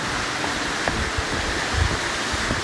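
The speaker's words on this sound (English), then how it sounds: "you can hear the water flowing down below, which means there's going to be a waterfall" Water flowing down in a canyon toward a waterfall at Cloudland Canyon after recent rain, a steady broadband rushing wash heard from below, constant and moderately loud with no voices.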